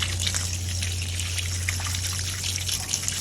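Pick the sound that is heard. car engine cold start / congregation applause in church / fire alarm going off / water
water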